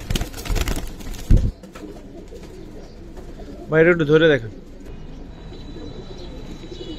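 A giribaz pigeon gives a short, clear coo close by partway through, after someone speaks at the start over faint background rumble.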